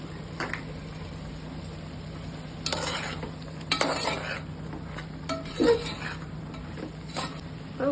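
Mutton kulambu masala with home-ground chilli powder, coriander powder and salt being sautéed in a pan: a low sizzle under repeated scraping stirs and metallic clinks of a spoon against the pot.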